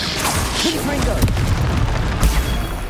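A Confringo fire curse spell blasts in the Hogwarts Legacy video game, with booming bursts and crackling impacts under speech and game sound.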